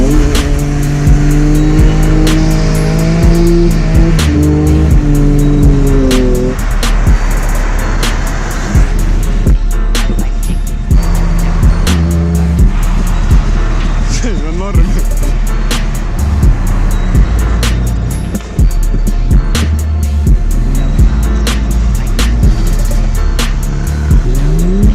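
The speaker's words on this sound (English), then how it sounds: "And one go-kart coming in." A go-kart engine runs loud and close at a McDonald's drive-thru, with revving and changing pitch that keeps going throughout amid other traffic noise.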